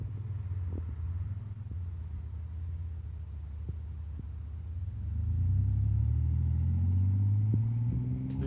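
A car driving through a traffic light intersection: steady low engine rumble from inside the vehicle that grows louder and rises in pitch partway through as it picks up speed, with a few faint ticks.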